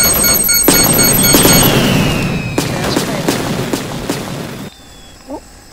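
Bombing in the Roblox game Military Tycoon from a B-29 bomber, a dense run of loud game blasts and booming impacts over rumbling noise, then a quieter tail with a brief voice.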